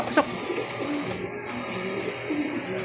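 Pigeons arriving back at a loft coop, soft cooing and brief bird calls close by amid low background noise, with a voice heard briefly.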